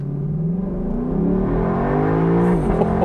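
A 2022 Lexus LC 500 convertible's V8 pulls hard at full throttle from a standstill, a loud rising engine note climbing steadily through the gears, close by and alone.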